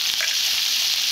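A continuous close sizzle of moringa drumsticks frying in a pan, even and unbroken, with faint stirring and no talking.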